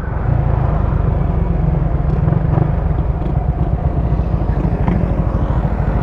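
ECU-remapped motorcycle held at full throttle, a loud, close, sustained engine roar with a rough rumbling texture and no break.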